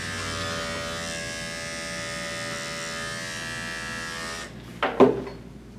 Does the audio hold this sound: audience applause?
no